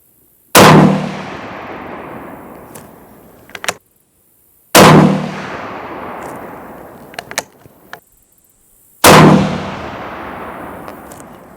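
Three loud 6.5x55 rifle gunshots, each a sharp crack with a decaying ringing tail, spaced about four seconds apart, followed by faint clicks of handling between shots.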